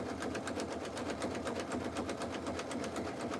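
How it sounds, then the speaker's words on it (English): Pfaff sewing machine stitching a fabric strip rag rug, a fast steady needle rattle running continuously, close and alone. "right now we're sewing a 30 strip fabric strip rug"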